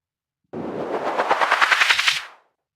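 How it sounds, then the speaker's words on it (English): A synthesized noise sweep passed through a short delay in the manner of Karplus-Strong synthesis, a loud burst of about two seconds with a rapid metallic pulsing that rises and then cuts off. "a poor approximation of a noise sweep that you might use in a track"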